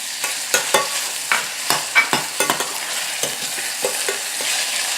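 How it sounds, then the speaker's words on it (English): Onion and peppers are sautéed in a pan, sizzling steadily while a spoon scrapes and stirs them in quick repeated strokes, close and fairly loud. "So I'm just using this just to saute the vegetables"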